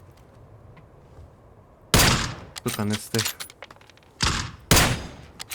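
Several sharp gunshot bursts in PUBG on the Erangel map, loud and close, separated by short pauses, with someone talking quietly between them.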